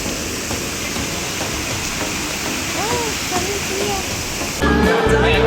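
Waterfall at Copalitilla, Huatulco, Oaxaca, a constant broad roar of falling water, even and close, with birdsong faintly above it and a louder surge near the end.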